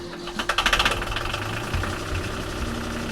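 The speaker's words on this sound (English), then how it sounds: "we managed to fix the engine cooling and get us cranked up" A sailboat's engine runs steadily after its cooling system was repaired, with a rapid knocking chug that is loud early on and then settles into a close, even idle.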